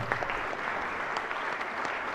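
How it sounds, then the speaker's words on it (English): A round of applause on the Maryland Senate floor, steady clapping from many people in a large chamber, moderately distant and even throughout. "I would like for you to please give a wonderful round of applause to someone who really worked for people."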